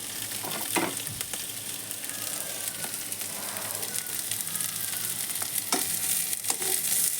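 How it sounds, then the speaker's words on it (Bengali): Boiled potatoes frying in a pan, a steady close sizzle of hot oil with occasional scraping stirs and clinks, no talk. "সিদ্ধ করা আলু একটু ভেজে নেবে ভালো লাগে"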